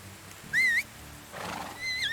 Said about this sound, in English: I want to see if the horse comes